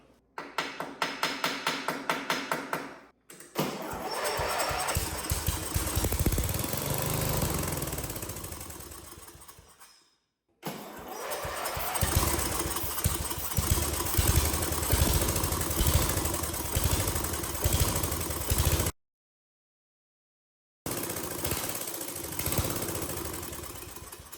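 A classic Murray lawn mower engine with a carburetor that may have a stuck float runs in loud, rapid-firing bursts, cutting out and restarting several times with silent gaps between.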